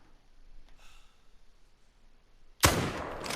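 A single loud, sharp rifle shot cracks out near the end, fired at a red deer stag in a hunting video game, following a few seconds of quiet breathing and ambience with a long rumbling tail.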